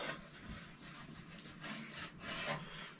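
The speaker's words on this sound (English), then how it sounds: "Rub her in real good." Wax finish being rubbed into a wooden cutting board in a cold workshop: soft, rhythmic scrubbing strokes, close and quiet, repeating in uneven back-and-forth passes with a gritty, rasping texture and no talking.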